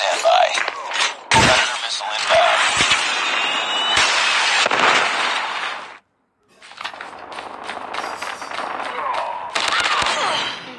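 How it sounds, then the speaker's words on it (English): A Predator missile strike and its aftermath sound in a Call of Duty multiplayer match: crackling gunfire, sharp bangs and rumbling blasts, loud and dense, with a brief silent cut midway and in-game voices. "Standby. Predator missile inbound."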